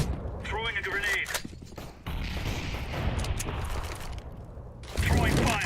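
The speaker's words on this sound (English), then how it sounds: "Throwing a grenade." Grenade and incendiary throws during a professional CS:GO match at a 2017 tournament, with gunfire bursts, clattering mechanisms and dull thuds in a busy in-game soundscape, under steady caster talk.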